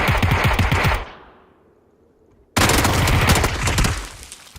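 Automatic gunfire in the game PUBG rattles off in a loud, rapid burst, stops and fades, then resumes in a second sustained burst.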